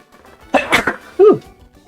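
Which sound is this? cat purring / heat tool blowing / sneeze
sneeze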